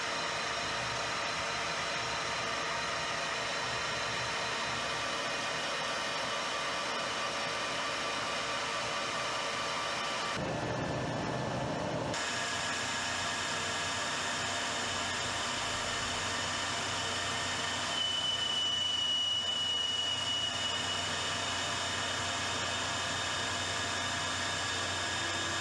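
Small metal lathe in a compact home workshop turning a steel part down to final size, a steady motor whine with a sustained cutting hiss and a brief pause midway, running close and unbroken for the length.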